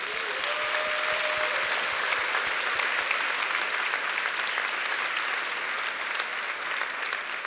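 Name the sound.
church congregation applauding guests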